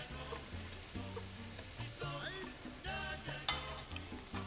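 Steady sizzle of sofrito with sazon spices frying in a pan, with stirring scrapes and a bubbling, crackling texture throughout, close and continuous with no speech.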